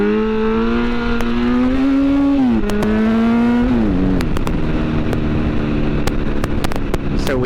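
A motorcycle engine held around 3,000 RPM during a standing wheelie, a loud, continuous droning exhaust whose pitch rises gradually, then dips and shifts as the throttle eases, with scattered clicks, close and dominant throughout.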